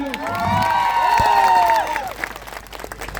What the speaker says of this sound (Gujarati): એમના માટે જોરદાર આપણે તાળીઓ પાડી લો